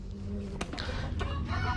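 Young chickens of about three months, raised as backyard stock, cluck in short bursts against a steady low background hum, with a few sharper calls standing out.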